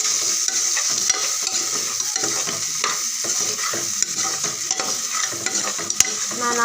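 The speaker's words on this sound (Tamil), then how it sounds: "நல்லா கிளறி விட்டுக்கலாம்." Crab gravy frying in a pan for South Indian nandu gravy, stirred steadily with a spoon, giving continuous close sizzling with repeated scraping and clinking strokes throughout and no voices.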